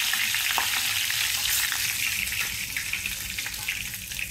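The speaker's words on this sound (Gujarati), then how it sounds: "તો આપણે વઘાર કરી લઈએ આનો." Mustard seeds and curry leaves tempering in hot oil in a home kitchen, a steady loud sizzle and crackle running throughout with small pops.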